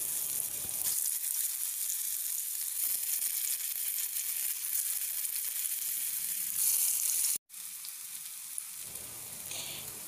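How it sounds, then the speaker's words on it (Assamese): Round balls of food frying in oil in a wok, a steady close sizzle that runs unbroken for the whole stretch with only a brief dropout near the end. "এতিয়া কেৰাহীত মই তেল দি তাতে এইবোৰ অলপমান ভাজিম ৰঙা হোৱালৈকে ধুনীয়াকৈ ভাজিম"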